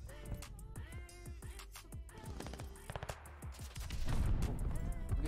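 Game gunfire in an online match, a run of sharp shots and bursts mixed with other game sounds, getting denser and louder toward the end, with no talk over it.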